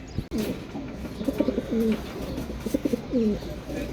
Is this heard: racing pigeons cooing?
yes